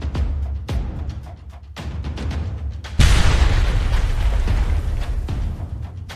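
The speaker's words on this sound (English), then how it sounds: "Ukrainian artillery opens fire." Ukrainian artillery fire during an ambush, heavy booming blasts with a sharp loud impact near the three-second mark followed by sustained rumbling roar, earlier thuds more muffled and spaced.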